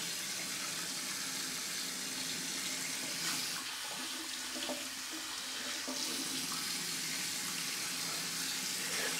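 Water runs steadily from a bathroom tap, a continuous hissing splash close to the microphone, with no speech over it.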